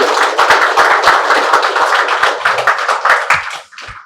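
Loud, dense applause from a crowd, steady clapping that fades out near the end.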